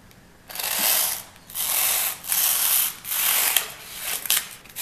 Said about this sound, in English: If you want to cut this foam, a sharp razor blade will work, but a serrated knife works a lot better.